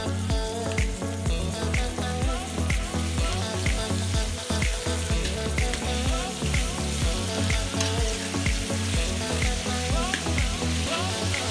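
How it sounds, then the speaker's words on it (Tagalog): Ground pork sautéing with garlic in oil and butter for a creamy Christmas spaghetti, a loud steady sizzle and crackle with stirring scrapes running throughout, close up and with no talking. "igisa lang natin ang karne hanggang maluto ang ating giniling"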